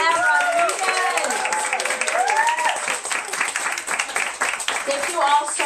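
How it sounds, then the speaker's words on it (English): Book launch audience in Los Angeles applauding author Rey M. Rodríguez, sustained close hand clapping mixed with whoops and voices calling out, loud and steady throughout. "One more round of applause for Rey M."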